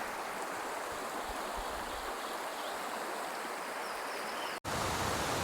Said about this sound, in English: you can pick up the sounds of the stream now